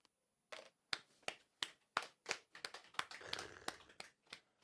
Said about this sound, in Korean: 친구가 맞췄다고 같이 박수 쳐주고